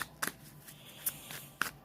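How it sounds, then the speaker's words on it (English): A smooth-surfaced Universal Celtic Tarot deck is shuffled by hand, giving faint, quiet riffles and soft card snaps spread unevenly over a couple of seconds. "It's Universal Celtic Tarot. They're smooth cards. They're easy to shuffle."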